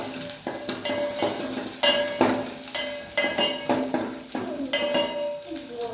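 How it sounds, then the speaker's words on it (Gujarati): Garlic and ginger frying in a pan for Manchow soup, a steady close sizzle broken by repeated scraping stirs and light clinks of a utensil against the pan. "પછી થોડું લસણ ગુલાબી થઈ જાય એના પછી આપણે અંદર નાખીશું અદરક"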